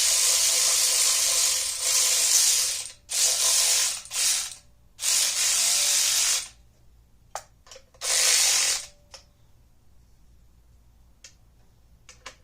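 A hand ratchet on an extension snugs down engine bolts during an engine assembly: several loud bursts of rapid clicking, each lasting one to two seconds and separated by pauses, with a few faint ticks between them.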